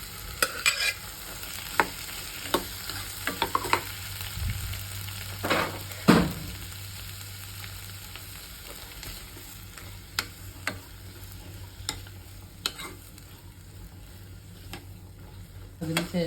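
Cooked chickpeas, boiled earlier with salt and turmeric, stirred as they fry in a pan for a Kerala kadala curry. A soft, steady sizzle runs throughout, with scattered scraping clicks of the spoon against the pan and no talk.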